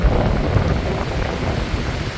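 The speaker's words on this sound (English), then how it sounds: "I'm just getting drenched and the wind's blowing the rain in my glasses" Heavy rain pours down in a steady, dense roar, with gusting wind buffeting close by and no voices heard.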